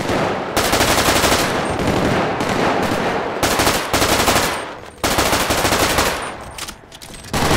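Rapid rifle gunfire in the video game GTA V Zombies, dense loud bursts of automatic shots nearly continuous with brief gaps, no talk.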